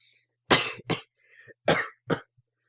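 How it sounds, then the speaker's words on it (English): Four dry, close coughs in two quick pairs, each harsh and short, with brief silence between them. "I had a dry cough."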